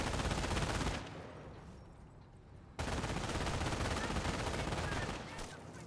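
Sustained, dense MG42 machine-gun fire rattles loudly from a German emplacement in the World War II strategy game Company of Heroes, easing briefly to a quieter stretch before another heavy burst resumes, with a commentator's voice mixed in.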